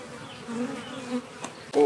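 Honey bees buzzing around a frame pulled from a crowded nuc hive, a close, wavering drone with individual bees passing near.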